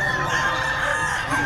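Roosters and stags at a crowded gamefowl market, clucking and calling continuously at close range with a busy, noisy backdrop.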